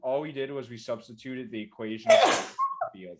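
A single sharp sneeze cuts through a person speaking during an indoor physics lecture, loud and close, with speech resuming right after.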